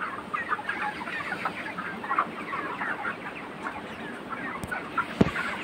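Broiler chickens cluck continuously on a poultry farm in Bangladesh, a dense flock chattering at close range with a few sharper calls and knocks near the end.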